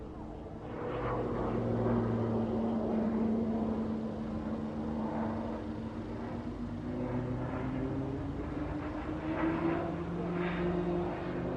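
A propeller aircraft at a Scottish airshow drones past with a sustained engine tone whose pitch slowly shifts, distant and moderately loud, with faint voices in the background.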